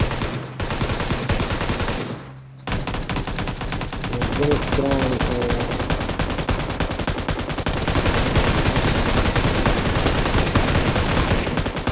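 Rapid gunfire in PUBG New State Mobile rattles almost nonstop in dense automatic bursts, loud and close, pausing only briefly near the start.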